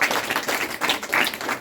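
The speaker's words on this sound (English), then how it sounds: "So we'll give him a round of applause" An audience in a spiritual talk session applauds together, a dense, steady wash of many hands clapping close by, with no voices over it.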